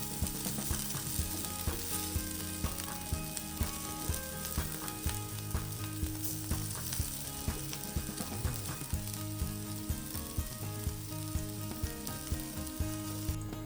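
Potatoes and masala frying in a pan while being stirred for samosa filling, a steady close sizzle broken by repeated scraping and stirring strokes with no talk.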